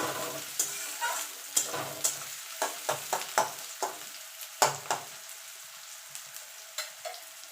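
Onions frying lightly in a pan for a gandharaj lemon chicken dish, a soft steady sizzle broken by repeated scraping stirs of a spatula, close and moderately quiet with no talk.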